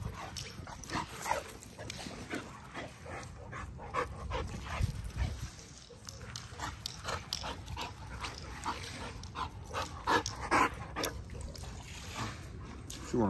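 American Bully dog whimpering, yipping and panting near the kennel, eager to play, with short high whines scattered over steady breathing noise and faint background sounds.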